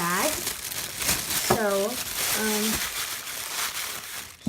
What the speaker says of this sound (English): So I keep it in a plastic bag.